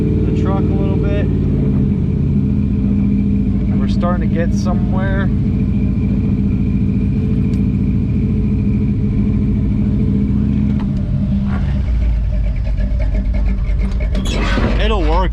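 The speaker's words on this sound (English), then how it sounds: "We're idling up the truck a little bit." A drag truck engine idles with a steady low rumble that lifts slightly as the idle rises, close and continuous under people talking.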